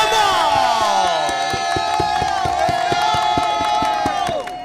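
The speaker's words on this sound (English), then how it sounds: "Kamal, the crowd was going wild for you all finals." A large crowd cheers and whoops loudly for the winner of the 300th Yu-Gi-Oh! TCG YCS tournament in Richmond, Virginia, a dense, steady roar with shouts over rhythmic clapping that fades slightly at the end.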